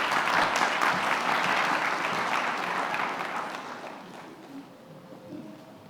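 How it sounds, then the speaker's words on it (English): Audience applause at a community meeting on neighborhood violence in Winston-Salem, North Carolina, starts full and loud, then gradually thins and fades over about six seconds. "Let's give her a round of applause."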